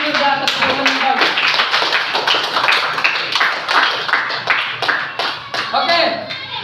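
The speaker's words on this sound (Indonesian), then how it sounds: "kasih dulu tepuk tangan untuk si Nela dan si Wirda atas jawaban yang" Classroom applause, a small group of students clapping in sharp, uneven bursts at close range, with voices talking among the claps.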